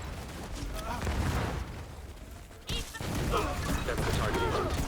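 Enemies spawning and exploding in a video game, with dense overlapping blasts, crashes and mechanical clatter rolling on loud and continuous, briefly thinning before a sharp burst and a return to the busy din, with speech mixed in.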